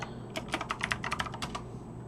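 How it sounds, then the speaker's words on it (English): Quick bursts of typing on a computer keyboard as a search is entered, about a dozen crisp close keystrokes in an uneven rhythm over a quiet background hum. "Maybe I should actually type this as a search, just so I can get some images."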